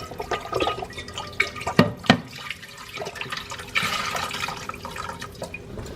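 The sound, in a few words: pouring chicken broth into a pot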